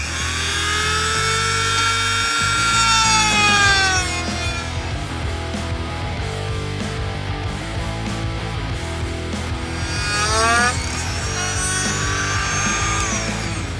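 A handheld jigsaw saws a notchy curve through a workpiece for a two-stroke Banshee build, its buzzing motor rising and falling in pitch with each stop-and-start pass, loud and close, with no talking.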